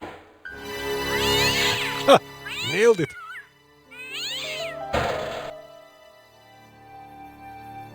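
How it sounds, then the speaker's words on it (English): A cat meows several times in the video game Broken Sword, drawn-out wavering cries close by, mixed with game sound and a voice talking over them. "I'm fully expecting a cat to come out of this."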